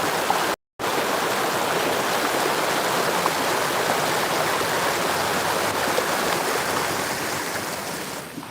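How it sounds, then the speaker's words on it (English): A steady, loud roar of a man-made waterfall crashing into whitewater, constant and close, with a brief cut to silence near the start. "That's a man-made waterfall that creates the waterfall in the whitewater"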